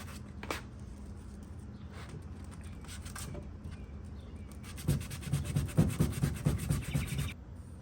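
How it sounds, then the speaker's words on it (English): Light scuff sanding by hand on primed trim between primer coats, a soft continuous rubbing and scraping that turns into quicker, louder back-and-forth strokes toward the end, with no talk. "After the first coat of primer, I always make sure I sand between my coats. So I'll do a nice little scuff sand"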